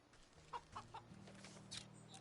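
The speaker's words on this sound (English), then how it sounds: "Why does the pheasant sound like a chicken?" A pheasant in the video game Wytchwood gives a few short chicken-like clucks over a low steady hum of game ambience, fairly quiet.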